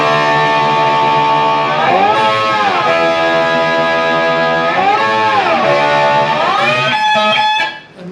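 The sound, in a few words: electric guitar with slide playing a song's solo rhythm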